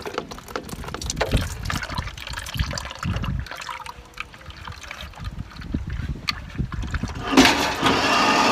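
Engine oil drains from a Yanmar engine on a Wood-Mizer sawmill outdoors, trickling and splattering in an uneven dribble. Faint clunks and wind gusts are mixed in, with a louder rush of wind near the end.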